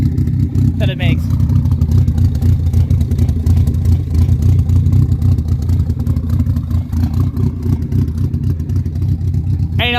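A 1986 Shelby Omni making over 300 wheel horsepower idles with a steady, loud, choppy rumble that runs throughout, with a few faint squeaks and clatters on top.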